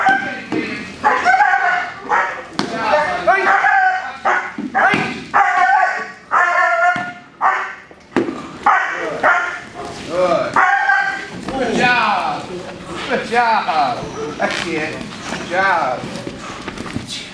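A young protection dog in training barks repeatedly in quick, loud bursts close by, mixed with a handler's voice talking and praising throughout.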